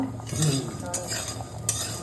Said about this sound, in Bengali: এখন হচ্ছে এই যে বড়ি ভাজা